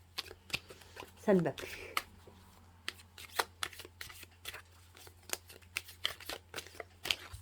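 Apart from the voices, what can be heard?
shuffling tarot cards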